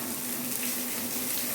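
Onion fries lightly in a small amount of mustard oil for a potato curry, giving an even, close hiss that holds steady without pause.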